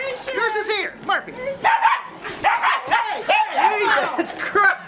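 Several dogs bark, yip and whimper close by in a lively indoor Christmas gift scene, with people talking over the repeated barks throughout.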